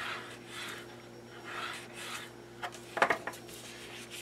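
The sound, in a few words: sharpening a folded paper crease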